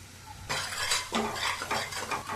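Bursts of crackling and clattering as spices temper in a hot pan with ginger-garlic paste, chili paste and turmeric, with scraping and stirring, several loud surges over a couple of seconds.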